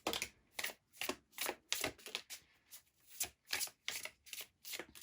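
Tarot cards being shuffled by hand, with a steady run of crisp, riffling bursts about every half second. The shuffling is close, clear and alone, with no talk over it.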